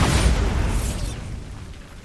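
A Bombarda spell detonates in Hogwarts Legacy, a single loud, close booming blast that rumbles and trails off over about two seconds, heard alone without voices.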